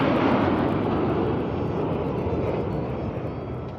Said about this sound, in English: वायु योद्धा गर्व और शौर्य की नई मिसाल कायम करते हुए कर्तव्य पथ के ऊपर से वायु विचरण